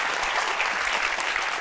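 Studio audience on a Pakistani TV comedy talk show bursts into steady, dense applause, a continuous wash of clapping with no talk over it.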